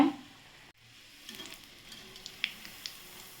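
Egg cutlets fry in a pan over a low flame, giving a soft, steady sizzle with light crackles and a few sharper pops, then a brief hush before the sizzling resumes.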